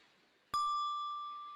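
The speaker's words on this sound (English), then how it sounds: "you tilt it slowly downwards at a certain point, the bell will strike" An electronic handbell (eBell) with a motion sensor strikes once when tilted to a set angle, giving a single clear, bright ring that sustains and slowly fades in an otherwise quiet room.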